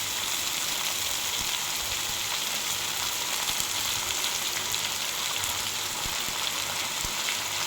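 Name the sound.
washed amaranth leaves added to a hot pan, sizzling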